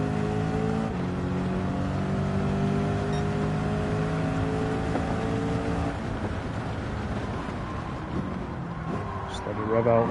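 A car engine in Gran Turismo 7 holds a steady rev with layered tonal drone, shifting pitch around the midpoint, and someone talks over it.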